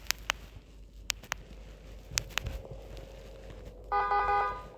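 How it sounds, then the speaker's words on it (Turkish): Sharp electronic clicks and beeps sound sparsely, then a loud synthetic car horn blares for under a second near the end. "Öyle kornamız var. Sesini açayım."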